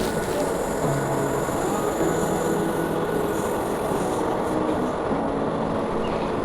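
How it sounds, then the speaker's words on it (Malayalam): A train passes nearby, seen from atop a rock, its steady broadband rumble and rolling hum continuous and fairly loud throughout with no voices. "പാറേൻ്റെ മേലെ നിന്ന് ട്രെയിൻ ശരിക്കും കാണുന്നുണ്ടായിരുന്നു."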